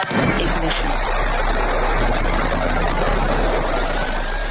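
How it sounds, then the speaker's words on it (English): Roar of a Blue Origin rocket engine at ignition and launch carrying an all-female crew on a suborbital flight, a loud continuous broadband rumble with deep low-end throughout. "The all-female crew aboard the Blue Origin rocket. 5, 4, command engine start."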